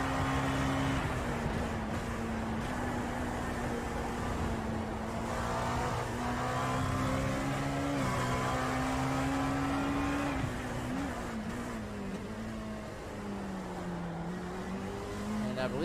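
Race cars at Silverstone in iRacing, LMP2 prototypes and GTE lap traffic, hold a steady engine whine that shifts pitch as they pass and change gear, loud and continuous throughout.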